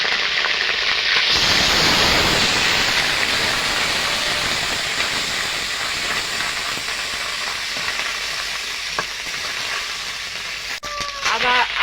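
Ginger paste with panch phoron frying in a pan for a vegetarian khichuri, opening with a loud hissing burst that settles into a steady sizzle, followed by a brief utensil clatter near the end.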